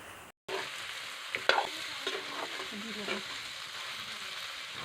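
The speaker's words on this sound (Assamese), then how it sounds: "এয়া আলু আৰু কোমোৰাখিনি মই ইয়াতে দি দিলোঁ আৰু এইখিনি এতিয়া মই অকণমান টাইম ভাজি ল'ম।" Duck meat with potatoes and pumpkin fries in a pan, giving a continuous close sizzle with brief clinks and scrapes of stirring.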